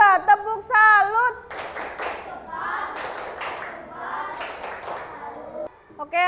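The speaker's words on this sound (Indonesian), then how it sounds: "kita beri tepuk salut untuk mereka berdua" A class of schoolchildren claps a rhythmic salute clap, brisk patterned bursts of hand claps mixed with children's chanting voices, preceded by a teacher speaking.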